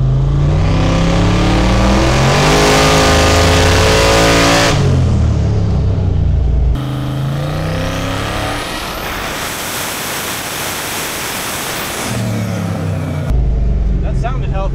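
Twin-turbo Ford Fairmont with Holley EFI revving hard on a dyno, a loud rising engine pull that cuts off, followed by a sustained roaring run and a brief quieter tail, close and dominant.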